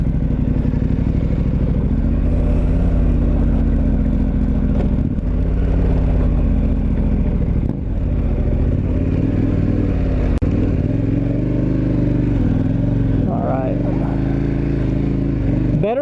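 Dual sport motorcycle on Avon TrekRider 50/50 tires (AV84 and AV85) under full acceleration off-road, a loud, steady engine roar with rising and falling revs and rattling clatter running the whole time, with a voice talking over it.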